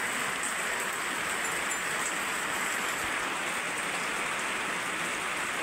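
Steady rain pours down on a farmhouse and its cattle shed, a dense, even hiss that stays loud and unbroken throughout, with no voices over it.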